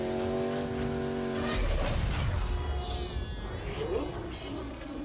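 Cars roaring through a video game chase scene from an EA E3 trailer, with a loud engine drone, a heavy crash-like impact around the middle and rushing debris and whooshes afterward.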